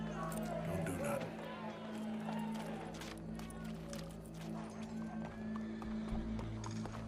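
Horse hooves clip-clop in Red Dead Redemption 2, a steady trotting rhythm heard at moderate volume beneath a low droning background and scattered game sounds.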